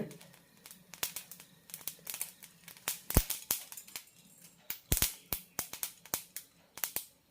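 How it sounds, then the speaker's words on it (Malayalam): Mustard seeds and cumin crackle and pop in a hot pan for homemade sambar powder, a rapid scatter of sharp, close clicks, some loud and some faint, with no talking. "കടുക് പൊട്ടാൻ തുടങ്ങിയിട്ടുണ്ട്"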